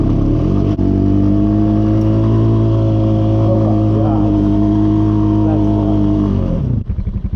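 A four wheeler ATV stuck in two feet of deep snow, its engine roaring loud and close in a sustained, strained rev that holds steady, then cuts off sharply near the end.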